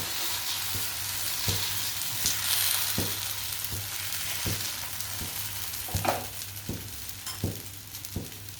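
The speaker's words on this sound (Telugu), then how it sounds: "ఇలా ఒక గరిటతో ఒకే ఒక గరిట తీసుకుని అలా పెసరట్టు వేసుకోవాలి." Pesarattu batter fries on a hot, oiled pan with a continuous soft sizzle, punctuated by regular light taps of a ladle roughly every half second as it is spread.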